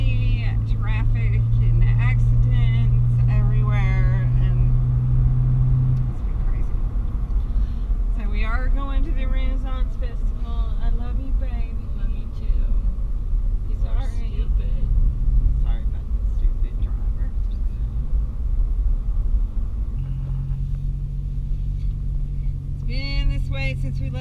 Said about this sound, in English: There's been crazy traffic.